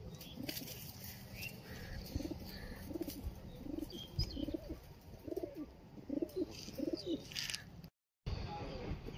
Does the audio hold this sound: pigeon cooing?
yes